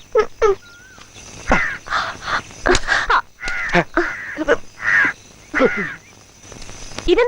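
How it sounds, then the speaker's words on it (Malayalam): A crow caws loudly and close by, in a series of harsh, rasping calls repeated in an irregular rhythm over several seconds, with short gaps between them. "കാക്കയുടെ ശല്യത്തിന് കൂടുന്നുണ്ട്."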